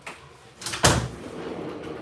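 A door is opened and shut to let a small dog out, giving a couple of soft thuds and a sharper knock near the middle, close by and alone without talk.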